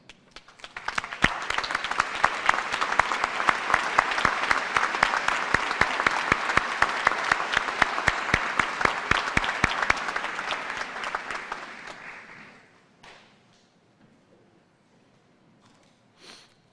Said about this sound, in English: I invite the members of our hardworking faculty to stand and be recognized by your applause